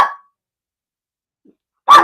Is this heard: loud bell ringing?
no